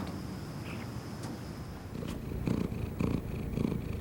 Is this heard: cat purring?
yes